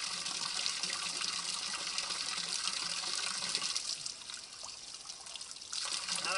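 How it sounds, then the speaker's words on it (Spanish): Water streams steadily from a public drinking fountain into a bottle during a trail run, a continuous close trickle and gush that holds level for the whole stretch without any talk. "Y vamos a llenar primero el agua para tener claro el punto de agua que la vamos a llevar"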